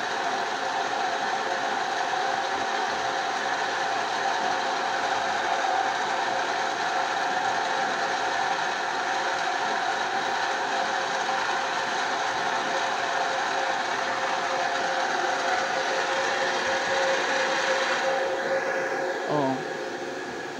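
A water pump motor runs steadily while drawing up water from a well source, a continuous mechanical drone with a faint ratcheting texture that holds even throughout, with a brief change near the end.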